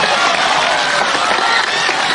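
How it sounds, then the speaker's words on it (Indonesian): Audience applause at an Isra Mi'raj religious gathering in 2022, a loud, dense and steady wash of clapping lasting a couple of seconds, with some crowd murmur mixed in. "Tepuk tangan buat bapak-bapak"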